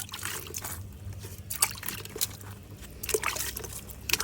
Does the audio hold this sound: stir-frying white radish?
no